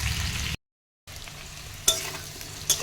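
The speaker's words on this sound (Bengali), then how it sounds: "কপির তরকারিটার জন্য ওই যে আলুটা ভাজা করছি" Potatoes frying in a pan for a cauliflower curry give a steady low sizzle, broken by a half-second silent gap and two brief sharper clatters of stirring near the end.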